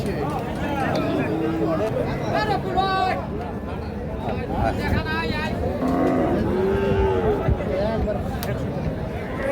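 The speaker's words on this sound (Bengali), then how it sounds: "একশো তেরো গরু" Sahiwal bulls moo repeatedly at a busy cattle market after Eid, the loud lowing calls rising over constant crowd chatter and bargaining voices.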